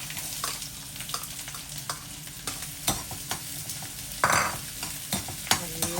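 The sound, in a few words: onions sautéing in oil in a pan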